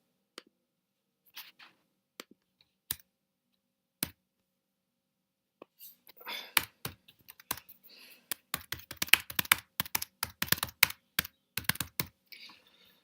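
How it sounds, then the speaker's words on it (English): Typing on a computer keyboard while composing an email, starting with a few isolated keystrokes, then building into a fast, steady run of crisp, close clicks with no talking. "Click hot and just start to type."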